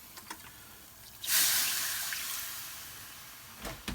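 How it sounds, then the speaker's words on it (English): Water pouring into a pan of chicken tikka masala curry, a steady splashing rush that starts abruptly and slowly tapers off, close and moderately loud with no talk. "So we're going to add some more water."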